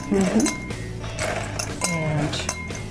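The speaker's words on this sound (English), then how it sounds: "I'll put some ice in for you" Ice cubes clink and rattle into a glass for a Svedka vodka drink on a talk show set, several bright clinks and knocks under people talking.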